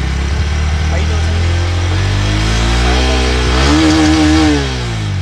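A 2023 Bajaj Pulsar NS160 motorcycle revs loudly at close range, its exhaust note climbing in pitch through several rising sweeps before falling back to idle, with a voice talking over it.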